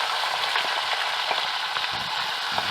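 Browned onions fry with ginger garlic paste and tomatoes in a pan, giving a steady, close sizzle with faint stirring clicks throughout.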